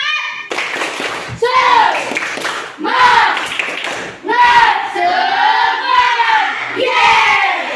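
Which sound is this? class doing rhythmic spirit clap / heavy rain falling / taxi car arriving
class doing rhythmic spirit clap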